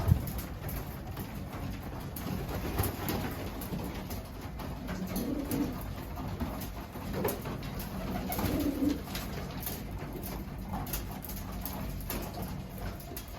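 Pigeons coo in a few low, soft phrases against a quiet background of scattered rustling and light tapping.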